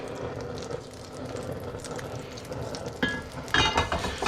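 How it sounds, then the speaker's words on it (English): Butter sizzles in a pot on the stove, a steady close crackle with some stirring clatter and brief louder scrapes of cookware toward the end. "once that butter starts to sizzle"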